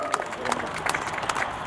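Audience applause welcoming the head of an association being introduced at a martial arts festival stage ceremony, a moderate wash of scattered clapping with a few sharper claps over a noisy outdoor crowd.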